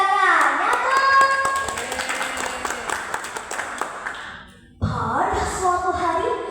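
Children clap their hands together in a short burst of rhythmic clapping. Voices and a sung, chant-like tone run through it, there is a brief pause, and then the sound picks up again.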